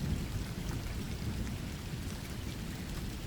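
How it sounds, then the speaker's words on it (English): A thunderstorm sound effect: steady dense rain hisses throughout with a deep continuous rumble of thunder underneath, fairly quiet and without voices. "The rain was unleashed that night."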